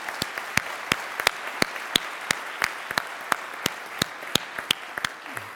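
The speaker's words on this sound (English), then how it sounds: "can I just get a round of applause for Jen" An audience at the 2013 Code for America Summit opening claps in sparse, scattered applause. Individual hand claps ring out sharply and fairly near at an uneven rhythm, with no voices over them.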